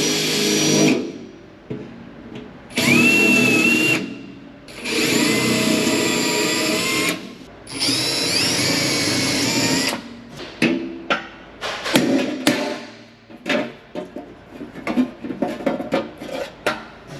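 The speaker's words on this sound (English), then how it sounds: "So I'm going to drill out these rivets, put pop nuts in there" A power drill bores out rivets on a Ford Fiesta MK1, coming in several whining bursts of a few seconds each, separated by pauses, then followed by clattering and metallic handling noises up close.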